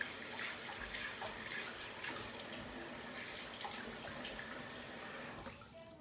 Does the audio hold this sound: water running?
yes